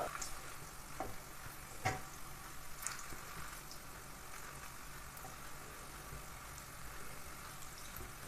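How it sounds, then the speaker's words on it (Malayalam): Ripe banana snack balls dropped into hot oil and deep-fried, giving a faint continuous bubbling sizzle with a few light clicks from turning them over. "നമ്മൾ ഉരുട്ടി വെച്ചിരിക്കുന്ന ബോളുകൾ ഓരോന്നായി എണ്ണയിലേക്ക് ഇട്ട് ഫ്രൈ ചെയ്തെടുക്കാം"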